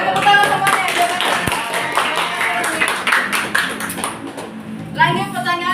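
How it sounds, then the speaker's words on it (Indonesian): Children in a classroom clap their hands in a scattered, uneven burst of taps, mixed with voices and chatter, fading out near the end. "Oke, tepuk tangan."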